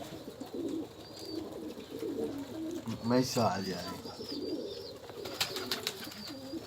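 Pigeons coo softly in a hot outdoor loft with red pigeons. A low, rolling coo stands out midway, with light chirps and someone talking over the birds.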